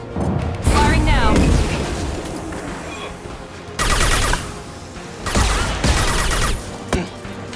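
Weapons firing in Mass Effect 2, with several loud bursts of gunfire and booming impacts arriving in separate waves and a voice speaking between them.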